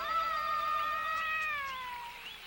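A cat held up high in a hot spot meows in one long, drawn-out wavering cry that bends in pitch and fades slightly at the end, close and fairly loud with no talking.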